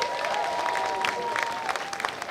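Audience applause at a statue-honoring ceremony for Coach Dawn Staley, a steady wash of clapping from a crowd that runs the whole moment without pause, with a faint tonal hum beneath.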